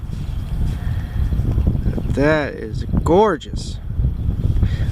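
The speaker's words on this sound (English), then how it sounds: "Sorry about the wind, folks." Steady wind buffeting a microphone outdoors at a historic homesite, a broad rumbling roar that continues throughout while a person talks briefly over it.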